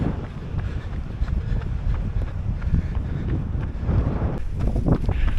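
Strong wind buffets the microphone with a continuous low roar and gusty rumbling throughout, during a run in Portugal.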